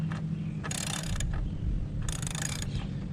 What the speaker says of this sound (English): we'll go ahead and take our time with the wrench and loosen this side up